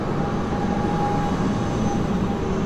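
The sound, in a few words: tram passing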